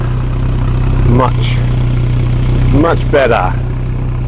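A Volvo 240 engine idles steadily through a welded-on hot rod exhaust tip, a low constant rumble running the whole time while someone talks over it.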